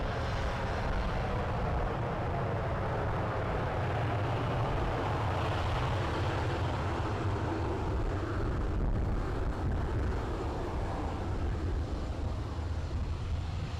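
A Ryanair Boeing 737 MAX 8 airliner at Edinburgh Airport, a steady broadband jet roar that holds loud and continuous for the whole stretch, with no voices.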